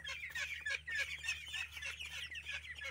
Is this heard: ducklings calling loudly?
yes